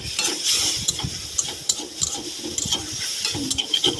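Tomato and spices stirred in a frying pan for a Bengali sour prawn dish, a steady scraping and clinking of the spoon against the pan over a soft sizzle, close and continuous with no talk.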